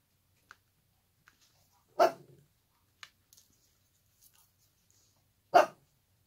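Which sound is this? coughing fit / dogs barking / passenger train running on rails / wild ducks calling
dogs barking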